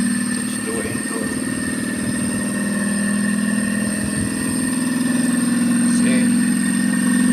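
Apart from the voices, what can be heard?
Panasonic 2.5hp inverter air conditioner compressor and outdoor fan motor running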